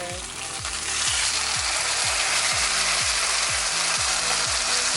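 Steak sizzling loudly in a hot pan after being flipped, a steady bright hiss and crackle with regular clicking knocks of a utensil against the pan, no voices.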